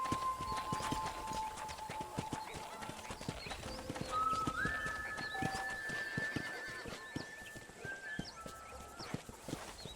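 Horse hooves clip-clopping in a steady galloping rhythm in the Red Dead Redemption video game, with a horse whinny and soft game music and ambience over them, at moderate loudness.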